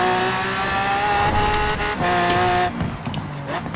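Lamborghini Aventador tuned to 1200 bhp in Forza Horizon 4, its V12 screaming at high revs with steady held tones, a brief lift and re-rev, then a gear change and engine note shifts near the end.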